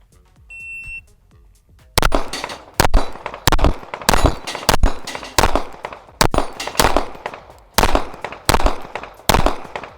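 Smith & Wesson Bodyguard pistol fired one-handed with the weak hand, a short electronic beep followed by about a dozen loud, sharp shots in a fairly even cadence, close by.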